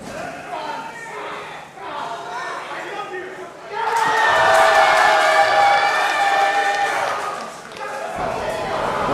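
A wrestling arena crowd in Houston roars and cheers, a dense wash of voices that swells sharply midway and stays loud before easing slightly, with a commentator talking over it.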